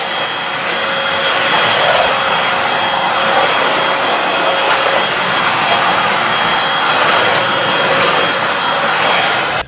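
A Eureka 3-in-1 vacuum cleaner runs on carpet, a loud, steady, close airy roar with a faint whine that holds evenly throughout before cutting off at the very end.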